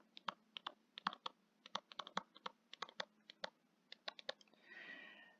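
Typing on a computer keyboard sounds as quick, uneven clusters of crisp key clicks up close at low volume, then a brief soft scratchy rustle near the end.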